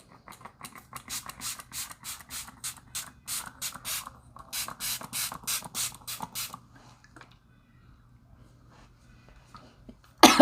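Dior setting spray is misted onto a face in a Z pattern: a rapid series of about two dozen short, crisp spritzes in quick bursts with brief pauses, close and fairly soft, then quiet with a handling noise at the end.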